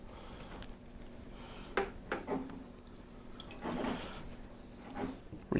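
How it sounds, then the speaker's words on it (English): Brewing equipment is rinsed under running water, with a soft continuous stream, splashes and a few louder bursts as the items are moved. "Rinse everything off really good."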